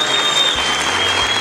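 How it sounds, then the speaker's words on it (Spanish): A studio audience claps loudly and steadily for an honoree on a television reality show, a dense and continuous wash of applause that holds for about a second and a half without a voice over it. "Un aplauso fuerte para Heriberto Sandoval"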